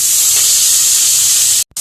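Chopped tomato dropped onto lentils frying in a pan gives a loud, continuous sizzle and hiss that runs steadily, then cuts off abruptly near the end.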